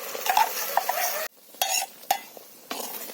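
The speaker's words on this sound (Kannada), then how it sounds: "ಇದೀಗ ಎಣ್ಣೆಯಲ್ಲಿ ಸ್ವಲ್ಪ ಫ್ರೈ ಆಗಲಿ. ಈ ರುಬ್ಬಿರುವಂತ ಮಸಾಲವನ್ನು ಈ ಎಣ್ಣೆಗೆ ಹಾಕುವ." Ground fish masala fries in hot oil in a pan, with a soft sizzle and a few short scraping stirs of a spoon, close and fairly quiet, broken by brief pauses.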